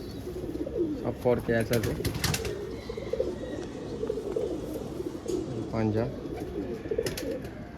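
Fulsira and Kalsira pigeons coo in a loft in Kolkata, soft repeated rolling calls rising and falling at close range beneath a man's speech, with a brief flutter of wings.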